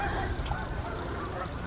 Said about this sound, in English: Look at those geese.